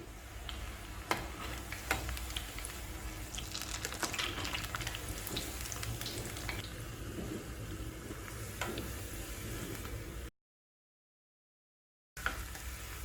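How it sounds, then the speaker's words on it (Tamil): Cauliflower 65 deep-frying in hot oil, giving a steady dense crackle and bubbling with occasional sharper pops, close and fairly loud, broken by a brief silent gap near the end. "இப்போ பொரிச்சு எடுத்துடலாம்."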